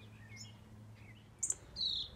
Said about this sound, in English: Lots of birds, lots of birds nesting everywhere. Up here we have some society finches